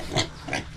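Pigs grunting on a small backyard farm, two short oinks about a third of a second apart, close and moderately loud.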